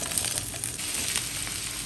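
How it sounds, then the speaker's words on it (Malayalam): Chopped cucumber sautés in sesame oil with garlic, a brief steady close sizzle that holds at an even level for about two seconds. "നുറുക്കി വെച്ചേക്കുന്ന ആ ഒരു കുക്കുംബർ ഇട്ട് കൊടുക്കുകയാണ്"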